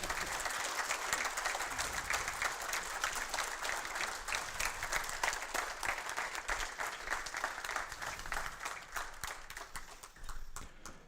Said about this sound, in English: please give a round of applause to all members of the program committee